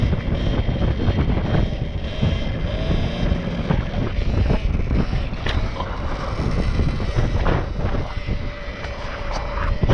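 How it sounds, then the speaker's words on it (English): Strong seaside wind buffeting a microphone while riding an electric dirt bike along the coast, a continuous loud low rumble with gusty roaring and no speech. "So windy down here."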